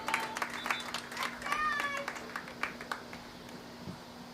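Scattered applause and claps from a crowd at a high school soccer game between Fairland and Rock Hill, faint and distant, with voices and a steady low hum underneath.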